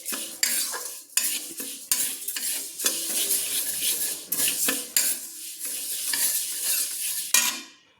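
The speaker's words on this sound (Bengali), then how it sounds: "আমি সোনা মুগ ডালটাকে ভেজে নিচ্ছি।" Yellow moong dal is dry-roasted in a pan with constant stirring: repeated bright metallic scrapes and rattles of a spoon against the pan, in an uneven rhythm of short strokes, close and fairly loud, with a faint sizzle beneath.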